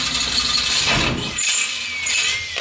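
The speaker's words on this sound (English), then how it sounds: "We gotta jump underneath and drill one more hole." A power drill whirs loudly and continuously as it bores a drainage hole into a pipe, its pitch dipping briefly partway through.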